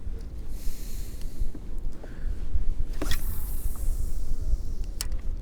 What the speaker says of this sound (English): The wind is pumping in this way